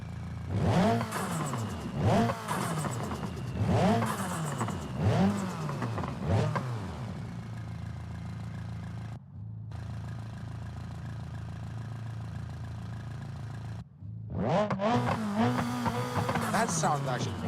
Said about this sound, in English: I go with the fart can exhaust.